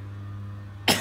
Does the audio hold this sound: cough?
yes